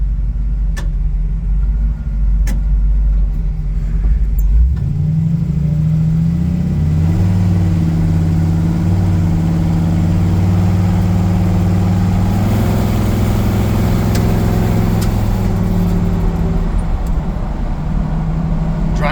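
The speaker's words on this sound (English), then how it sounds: "a tap of the gas pedal and it fires right up. I've had it running now" A 1964 Chevy C10 Stepside pickup with a warm crate 350 V8 and 700R4 automatic fires up a few seconds in, then settles into a steady, deep idle, loud and close, with no talking.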